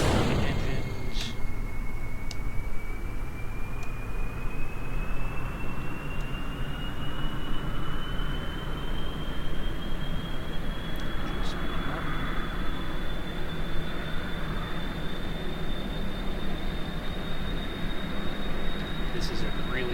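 Plane engines running in Kerbal Space Program 1.2, a steady loud game engine roar with a slowly rising whine that fills the whole stretch, no speech over it.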